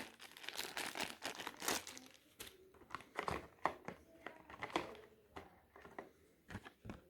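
Plastic packaging insert crinkling and rustling while a 2015 Motorola Moto E with grip shell is unboxed, a close run of irregular crackles and crunches with brief pauses, no talking.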